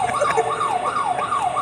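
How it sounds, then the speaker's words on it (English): The Anchor Pro anchor alarm app on a boat sounds a loud, continuous rising-and-falling siren-like wail that sweeps up and down in quick repeated cycles. "we used the Anchor Pro app with the alarm to wake us up"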